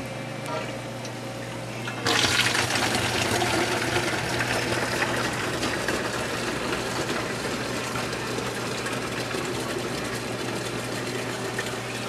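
Water from a saltwater frag tank rushes through an opened ball valve and a makeshift pipe into a 5-gallon jug, a steady gushing flow that starts suddenly and continues loud and even, with a low hum underneath.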